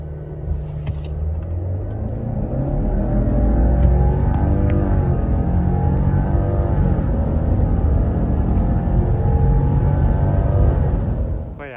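A Subaru Outback Wilderness with the FA24DiT turbo engine pulls hard on the highway in manual mode. A loud, steady in-cabin engine drone climbs in pitch through the gears over road rumble.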